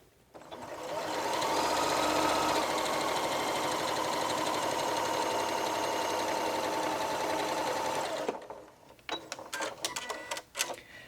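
A Janome Memory Craft 6700P sewing machine stitches at speed through a scant quarter-inch strip of fabric, a loud, steady mechanical whir lasting about eight seconds, followed by a few clicks and handling noises.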